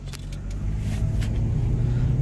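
An older Subaru Forester accelerating in first gear, heard from inside: a steady, close engine rumble that builds slightly in strength over road noise.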